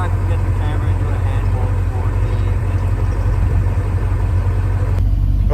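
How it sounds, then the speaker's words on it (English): A 4.7-liter V8 engine of a 1984 Porsche 928S idles steadily with a deep, constant low rumble, loud and close, with a faint voice underneath. "you can hear the rumble of that V8"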